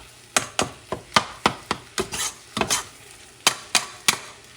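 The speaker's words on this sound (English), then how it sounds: "And I'm going to mix everything up." Corned beef mixed with oregano, paprika and garlic powder in a pan, giving a series of sharp, close scraping and tapping strokes in a steady rhythm, about a dozen distinct hits with short rubbing passages between.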